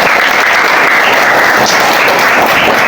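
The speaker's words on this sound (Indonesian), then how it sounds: "Oke, tepuk tangan." Fifth-grade pupils at an Indonesian primary school clapping their hands together on cue during a volleyball lesson, a loud, dense burst of many small hands close by with no talking.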